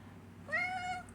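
A house cat lets out one clear, drawn-out meow close by, rising and holding for about half a second over a quiet room hum.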